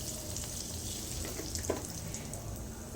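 Whole spices, bay leaf, dried red chilli and a liberal pinch of asafoetida fry in hot oil, a steady close sizzle and crackle that holds evenly throughout, with no voices.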